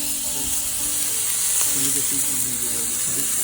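Smash burgers sizzle loudly on a Blackstone griddle, a dense, steady frying crackle with soft scraping and stirring sounds mixed in.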